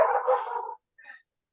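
A dog gives a single loud, close bark followed by a shorter, softer yip a moment later, then silence.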